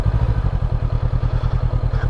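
A motorcycle idling loudly up close while parked on riverside sand, a fast, even, thumping engine pulse lasting the whole moment.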